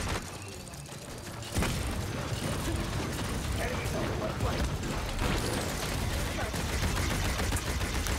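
Rapid machine gun fire in the video game Paladins, a dense clattering burst running nearly continuously for several seconds amid other combat sounds, with a player talking over it.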